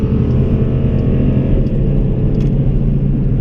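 A car engine roars loudly and continuously, its deep rumble rising and falling slightly with no voices over it.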